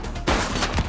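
A brief burst of gunfire from the video game The Precinct, several dense, loud cracking shots in rapid succession within about a second.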